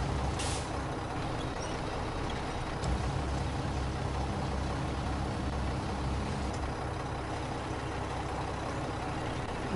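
A heavy truck maneuvering in the SnowRunner video game gives off a steady low engine rumble, with a brief sharp air-brake hiss near the start and faint mechanical clunks afterward.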